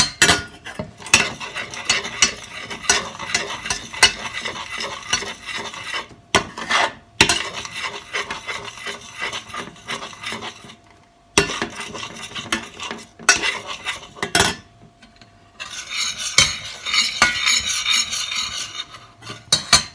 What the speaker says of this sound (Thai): คนไปเรื่อย ๆให้วุ้นละลายนะคะ